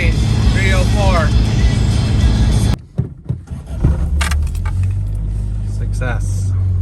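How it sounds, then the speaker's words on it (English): A Toyota AE86 with a 4AGE engine idles as it warms up on a Sunday morning in Burbank, California, a steady low rumble that continues alongside talking, with a brief interruption partway through. "letting my car warm up"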